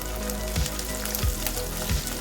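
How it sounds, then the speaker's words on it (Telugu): Green chillies, grated ginger and curry leaves fry in a pan with a strong, close crackling sizzle, with three dull thumps of a spoon stirring at roughly even intervals. "ఇప్పుడు మనకి మిర్చి అంతా ఫ్రై అయ్యేంత వరకు ఇలాగా వేయించుకోవాలి."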